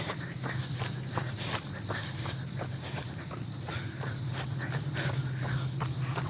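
Quick, regular running footsteps patter steadily throughout, close by, over a constant buzz of crickets and insects.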